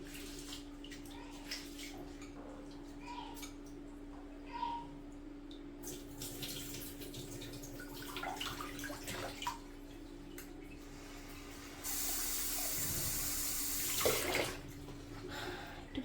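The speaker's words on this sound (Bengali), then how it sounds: "চালটাকে ভালোভাবে ধুতে হবে" Rice is washed under a running tap, giving a soft, steady trickle of water with small drips and handling sounds, and a louder, fuller gush of flowing water late on.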